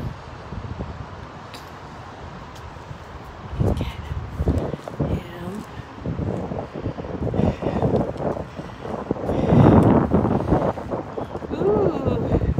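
Steady wind blows outdoors in downtown Calgary among skyscrapers, a continuous broadband rush with gusts swelling louder in the second half, buffeting the microphone; faint voices and city sounds sit underneath.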